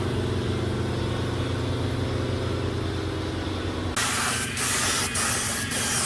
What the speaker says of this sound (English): I'm spraying it out of a truck bed gun, so it's giving it a texture.